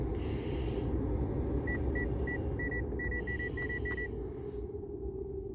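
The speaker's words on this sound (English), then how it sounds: "Does the climate control still beep?" Climate control panel of a 2021 Mitsubishi Mirage rental car giving a series of short, evenly spaced high beeps, about eight in a row, over a steady low cabin rumble.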